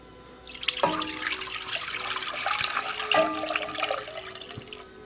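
Milk and water are poured from a dish into a pot for steel cut oatmeal, a steady liquid splash with two sharp onsets as the pouring starts and restarts.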